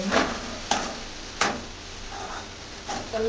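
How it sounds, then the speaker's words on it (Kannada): Tomatoes frying in a pan for fenugreek rasam, a quiet sizzle under a few sharp clinks and scrapes of stirring at uneven intervals, close and fairly soft. "ಇವಾಗ ಟೊಮೆಟೊ ಆ್ಯಡ್ ಮಾಡಿದ್ದೀನಿ ಟೊಮೆಟೊ ಆದ್ಮೇಲೆ ಸ್ವಲ್ಪ ಫ್ರೈ ಮಾಡ್ಕೊಬೇಕು"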